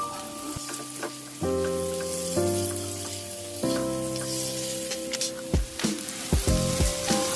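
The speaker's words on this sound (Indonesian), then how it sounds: "kemudian masukkan tomatnya. Tumis kembali sampai tomat matang." Tomatoes sizzle in a hot pan with spice paste, a steady frying hiss with utensil stirring and scraping clatter toward the end, close and alone.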